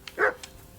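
A dog in the video game Kingdom Come: Deliverance 2 gives a single short bark, fairly close and clear against a quiet background.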